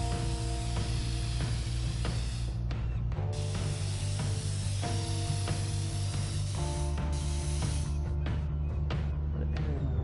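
Continuous hiss and rattle of a spray can painting graffiti in the video game Infamous Second Son, steady and loud over a droning game soundscape, with short breaks between bursts.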